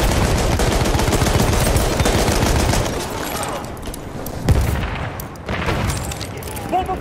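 Sustained machine-gun fire and dense volleys rattle loudly through a Battlefield 1 battle, easing after about three seconds into scattered shots and a single heavy boom, with soldiers' voices shouting in the background.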